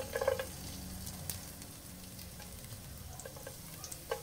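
Quiet, steady sizzling of garlic frying in olive oil in a pan, with a few small clinks of a utensil against the pot.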